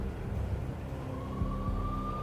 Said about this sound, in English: The NYPD was closing in. I could hear the sirens. Their wail was a crescendo.